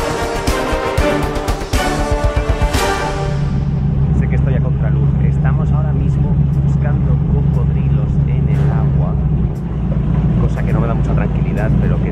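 An airboat speeds up across the Everglades, its engine building into a loud, steady droning roar that holds after a few seconds of rhythmic mechanical clatter, with faint speech over the top.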